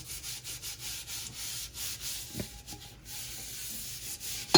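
Steady, repetitive scrubbing and rubbing against a hard surface of Calphalon cookware with a nylon scrubber and water, close up, with soft rhythmic strokes and a brief knock near the end.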